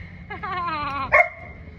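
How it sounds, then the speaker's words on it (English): Farm dog barking close by, a short run of yappy, whining barks followed by one sharper bark, with no talk over it. "And then we have B-Dog, aka Big Dog."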